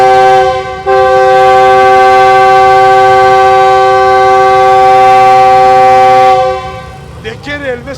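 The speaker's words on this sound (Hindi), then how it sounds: "इंजन का हॉर्न बजा" At a Pakistan Railway station, a train engine's horn blares in one long, loud, sustained blast lasting several seconds, then cuts off as a voice starts talking.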